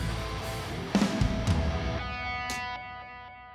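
Synth transition sound in a metal mix, with sustained distorted tonal layers swelling and holding over a few scattered hits before slowly thinning out.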